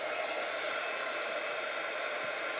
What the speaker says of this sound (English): So I'm going to wait and heat it up and then bring it in and cook the embossing powder.